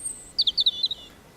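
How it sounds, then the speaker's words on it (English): Birds chirping, a quick series of five or six bright tweets close together, clear against a quiet background with no talk. "The birds are singing."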